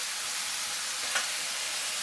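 Eggplant and tomato frying at high heat in a pan, a constant hissing sizzle close by with one brief pop near the middle, no voices.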